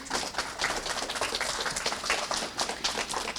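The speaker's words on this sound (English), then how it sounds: "I want you to turn towards your teachers and give them an applause" Dense, steady applause from a school audience honouring teachers at an elementary STEM Day awards ceremony, many hands clapping at once in a continuous wash with no talk over it.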